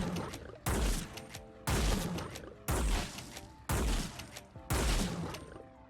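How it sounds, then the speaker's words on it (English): Six booming shotgun blasts from an unmodified shotgun in Fallout 4, evenly spaced about a second apart, each a heavy close report with a ringing tail. "let's go ahead and start off with the regular version of the shotgun"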